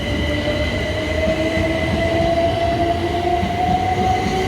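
A class 321 electric train passing through Haywards Heath station, loud and close, with a continuous rumble of wheels on rail, a rising whine, and a thin high squeal running across the whole stretch.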